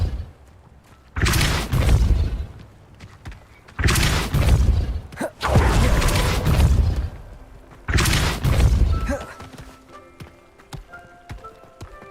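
Depulso and Levioso spells cast in the Hogwarts Legacy video game: four heavy whooshing booms about two seconds apart, each loud and broad, followed by a quieter stretch with faint tonal effects.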